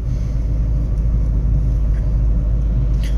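A car engine drones steadily at low speed on the road, a constant close rumble with light throttle and no talking.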